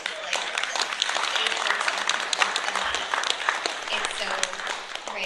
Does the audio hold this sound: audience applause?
yes